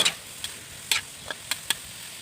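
Wild boar being stir-fried with holy basil leaves in a keto spicy stir-fry, heard as a soft, steady sizzle broken by a handful of sharp scraping clicks from stirring, spaced irregularly and close by.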